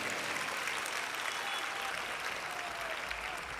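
Sustained audience applause at the close of a public lecture by Prof. Vasant Hankare, a continuous even wash of many hands clapping, heard at a moderate distance with no speech over it.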